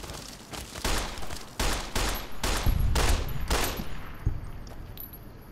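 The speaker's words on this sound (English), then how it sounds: "I'm straight up firing like there's no tomorrow" Rapid bursts of gunfire ring out in the video game Fallout New Vegas, a string of loud, sharp shots fired in quick succession, with echoing tails and a few heavier blasts. No voices are heard.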